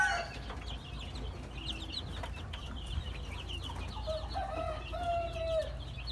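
Chickens and chicks in a warm brooder under a 250-watt heat lamp cluck and peep, with several overlapping calls and faint chirps against a low background hum, and nobody speaking.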